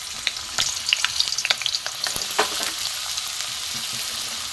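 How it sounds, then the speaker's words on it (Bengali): Chopped carrots, beans, cauliflower and green chilies fry in hot oil in a pan, a crackling sizzle with bursts of popping and stirring scrapes early on, easing to a steady hiss. "বিনস দিয়ে দিলাম, গাজর, বিনস, ফুলকপি, কাঁচা লঙ্কা টাঙ্কা সব দিয়ে দিয়েছি। আমি এটা একটু ভেজে নেব ভালো করে।"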